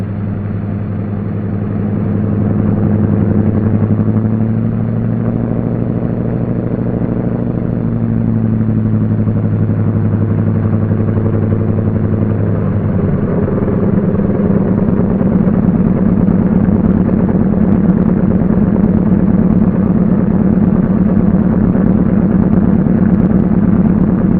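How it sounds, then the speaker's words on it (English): A Douglas DC-3 aircraft's piston engine turns over and catches, then settles into a steady, loud, rumbling idle with a rough mechanical clatter that continues throughout. "We've got to start the other engine before we can taxi."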